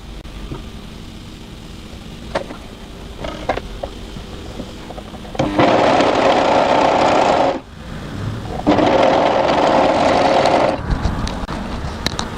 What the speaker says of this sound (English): We're now going to overlock from just above the pocket notch to just below the pocket notch.